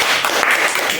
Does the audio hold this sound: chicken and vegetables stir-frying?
no